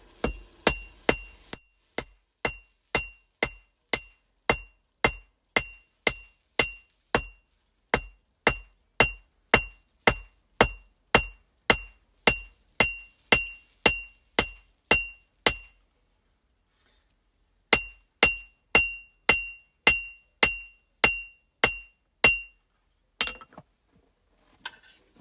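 Hammer blows ring out on an anvil while a heart necklace is forged, a steady run of sharp metallic strikes with a brief pause near the middle before the rhythmic pounding resumes, close and loud.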